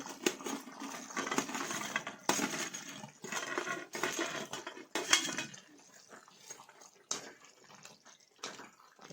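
Fried manchurian balls dropped into simmering gravy in a pan, a run of wet plops, clinks and splashes against the pan, close and fairly quiet, with no talking.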